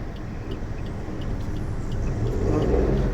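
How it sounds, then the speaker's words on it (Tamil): A car engine rumbles steadily at close range as the clutch is released during a forward-driving lesson, its low drone building slightly toward the end. "இப்போ இன்ஜின் சவுண்டு உங்களுக்கு கேட்டுச்சு இல்லையா?"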